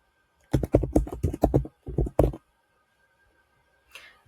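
Quick burst of typing on a computer keyboard, a dozen or so crisp close key clicks in a short run, then a pause and one faint click near the end, with no voices.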